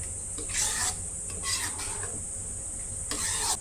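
Paneer gravy mixture with added water stirred in a pot, giving soft scraping and swishing strokes in a few bursts, close and moderately quiet with no talking.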